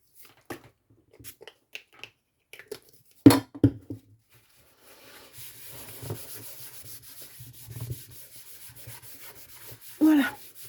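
Overflowed stamp ink being wiped off a stamp and work surface during card making: soft, intermittent rubbing and wiping strokes, a few brief taps and knocks, then a steadier low scrubbing with light background hiss.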